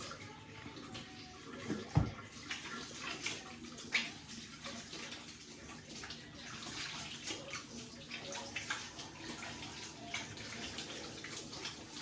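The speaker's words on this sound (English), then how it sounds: "Now I need to wash my hands again." Hands being washed under a running kitchen tap, with a steady splashing water stream, an occasional clunk near the start, and no talking.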